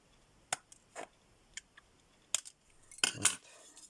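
An unneeded wire loop on a bird feeder gets snipped off in a handful of sharp, close metallic clicks spread over a few seconds, ending in a louder double snap, with no talking.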